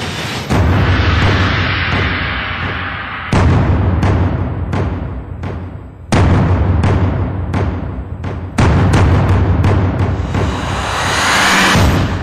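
Several loud explosions boom in sequence, each with a sharp onset and long rumbling tail, spaced a few seconds apart like artillery shelling.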